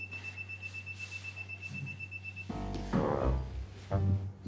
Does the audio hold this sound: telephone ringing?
no